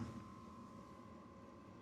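A Vevor 5-8kW diesel heater runs with a steady, even hum and a faint tonal whine, quiet and continuous with no talk.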